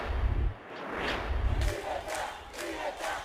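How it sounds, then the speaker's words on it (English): A protest crowd on the streets of Havana yells slogans in unison, in loud rhythmic bursts of many voices with thuds and scattered shouts between the chants. "In front of police, the crowd yells, "Fatherland and life," a new opposition slogan"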